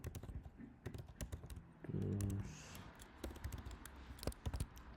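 Someone types on a computer keyboard while filing a Jira bug report: soft, scattered key clicks at close range in a quiet room, with a brief low hum midway.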